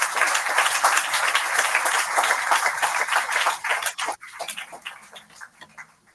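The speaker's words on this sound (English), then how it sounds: "Reddy with a big round of applause." A conference audience gives a big round of applause to welcome a keynote speaker, dense and loud for about four seconds before breaking off abruptly, leaving faint room noise and a few scattered claps.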